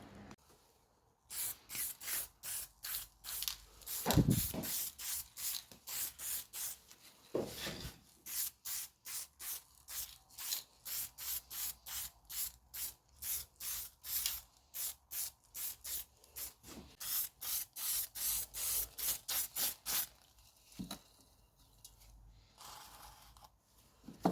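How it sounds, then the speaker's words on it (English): Weld-through primer sprays from an aerosol can in a long run of short hissing bursts, near and fairly quiet, on a Classic Mini pickup's right-hand A-pillar repair area before welding. "So next I'm going to hit the whole area with some weld-proof primer, including our little patch here"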